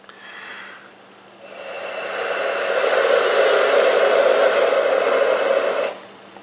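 Steady breathy blowing into the mouthpiece of a handmade clay instrument, a sustained airy hiss that swells after a short softer start and holds for several seconds before stopping abruptly.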